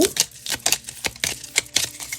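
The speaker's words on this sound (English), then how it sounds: "So we're going to shuffle as usual." Deck of cards being shuffled, a quick run of crisp, close riffling clicks and snaps over about two seconds, with no voices.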